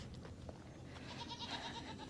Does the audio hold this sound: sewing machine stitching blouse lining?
no